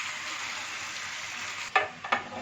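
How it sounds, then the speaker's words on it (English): Cutlets fry in hot oil with a steady, close hiss of bubbling sizzle, interrupted near the end by two brief louder crackling bursts as pieces are stirred. "take few cutlets and heat it in the oil. Fry it until golden brown."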